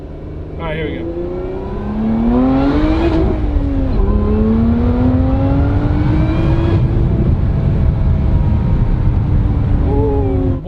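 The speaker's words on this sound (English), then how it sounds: "Hear all the pops, it sounds so good. For a V6, this thing sounds really good." Lotus Emira V6 engine revving hard under acceleration, its loud exhaust note climbing through gears with crackling pops, heard from inside the car with a person speaking briefly at the start.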